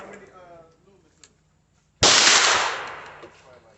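A single loud burst of gunfire from an AR or AK pistol erupts after a quiet stretch of faint talk and decays over about a second and a half.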